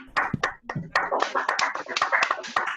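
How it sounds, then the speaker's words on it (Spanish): Scattered hand claps from a small audience applaud the speaker after a talk on emotions and childhood, a few uneven, close claps that keep up steadily without voices. "Aplaudan, aplaudan."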